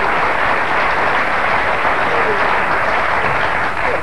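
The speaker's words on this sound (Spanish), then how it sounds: "Un aplauso, por favor." Audience applause at a live Spanish-language television show, steady dense clapping filling the whole stretch at loud, even volume with no voice rising above it.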